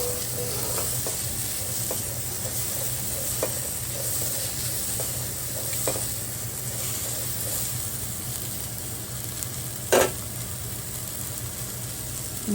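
Onions sizzle steadily in a frying pan for a masala dosa filling, a close, continuous hiss broken by scraping stirs and one sharper clatter.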